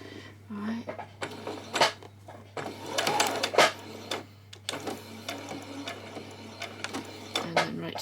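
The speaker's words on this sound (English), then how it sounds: "I'm just going to come along there and stitch across where that hole is" A sewing machine stitches across a hole in a peasant skirt with repeated short runs and pauses, close by, over a steady low hum.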